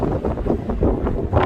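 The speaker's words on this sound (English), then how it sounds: "It's windy. I'm sorry if you can't hear me." Gusty wind buffets a microphone on a hiking trail, producing loud, close low-frequency rumbling that swells and dips in uneven bursts with no speech.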